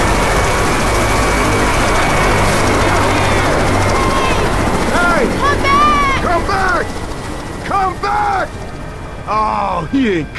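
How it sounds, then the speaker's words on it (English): Helicopter in the zombie shooter Left 4 Dead: a steady, loud rotor drone runs throughout, with bursts of game effects and clicks layered over it toward the end. "That chopper looks like it's heading to the evac center at the mall."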